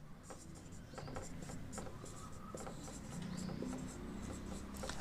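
Pen or pencil scratching on paper during a history lecture on modern India, with steady soft strokes and short scribbles over a constant room murmur.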